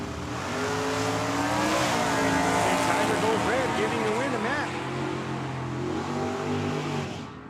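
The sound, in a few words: drag racing cars launching down the strip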